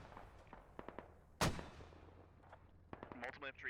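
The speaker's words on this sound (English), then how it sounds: "Radical Meister sending close-range mortars." Close-range mortar rounds thud and burst in a frantic online war game battle, one sharp loud blast standing out among lighter scattered pops, with faint voices and game noise around it.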